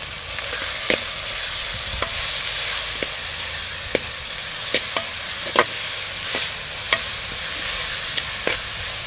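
Curry leaves crackle and sizzle in hot oil, a steady loud frying hiss broken by occasional pops and the scrape of stirring.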